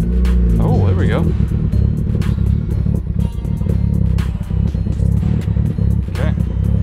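A Volkswagen Golf R MK6 runs with almost no exhaust, only the catalytic converter and resonator left, giving a loud, rough, rumbling idle with clattering pulses and a brief rev near the start, with voices talking over it.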